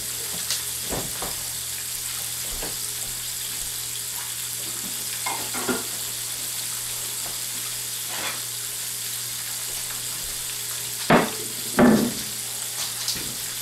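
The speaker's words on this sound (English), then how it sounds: "And yes, we're frying." Low, steady sizzle of butterflied shrimp frying in a pan, with occasional clinks and scraping of utensils, close by and without talking.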